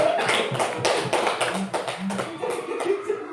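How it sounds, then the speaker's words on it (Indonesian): Indoor audience applause at a teachers' training session, a dense burst of many hands clapping at close range, steady throughout. "Aplaus dulu untuk kita semua."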